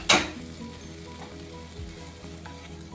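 Shrimp frying in a hot pan, with a sharp sizzle burst as they land, followed by a quieter steady sizzle with small pops.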